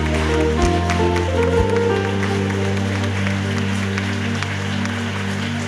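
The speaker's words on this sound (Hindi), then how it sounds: "जोरदार तालियां बजाएं, प्रभु को धन्यवाद दें।" A worship congregation claps loudly in thanks to the Lord, dense continuous applause over a sustained keyboard or organ chord that shifts pitch, filling the room at a steady level.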